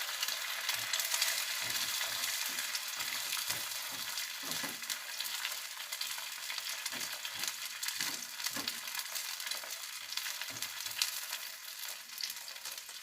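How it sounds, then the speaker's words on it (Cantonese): Eggs fry in oil in a wok over medium-high heat, making a quiet, continuous sizzle broken by irregular scraping and tapping clicks from a utensil, with no one speaking. "加一啲油落隻鑊嗰度，將隻鑊燒熱一啲，用中大火煎。"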